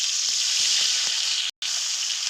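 Cumin, bay leaf, dried chilli and chopped ginger crackle in hot oil in a kadai, a loud, dense, continuous sizzle close up with a brief dropout near the end.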